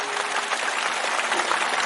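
An audience at a Bhagavat Katha gathering claps together for Rukmini's garlanding of Krishna, a dense, even wash of applause that holds steady at moderate loudness for the whole moment.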